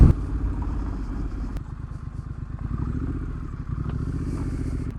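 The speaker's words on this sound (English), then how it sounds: "I'm gonna pull off here and show you the exhaust and have you listen to it a little bit as well" Exhaust of a 150-horsepower high-tech Harley-Davidson adventure motorcycle, pulled over, with a close, steady engine note and rough low pulsing from the pipes, alone without talk.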